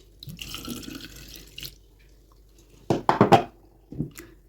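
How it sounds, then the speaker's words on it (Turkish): Water poured into an oil bottle being cleaned, with splashing gurgles and drips arriving in a short burst midway, after a stretch of quieter handling sounds and a faint voice. "İçine koyduktan sonra suyumuzu boşaltalım."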